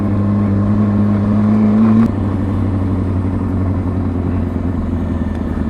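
A motorcycle rolls through slow-speed maneuvers with a close, steady engine drone whose pitch drops partway through and then holds as a low, even rumble.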